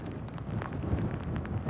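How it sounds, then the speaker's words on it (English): Gusting wind roars against the microphone with a dense rushing wash of rain during a storm in St. Augustine, loud and unbroken. "right now we are really seeing the wind and the rain pick up"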